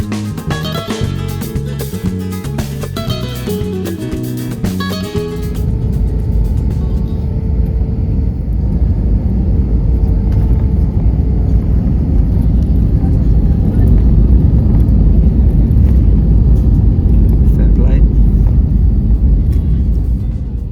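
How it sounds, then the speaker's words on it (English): A passenger airplane touches down at London Gatwick; after a few seconds of music, a loud, steady roaring rumble of the landing fills the cabin and holds strong throughout. "We had touchdown back at London Gatwick."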